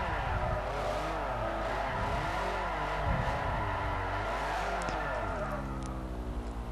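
A car drifts in a figure of 8 in Forza Motorsport 4, its engine revving and wavering continuously as the throttle is feathered, with tire squeal running under the steady, loud engine drone.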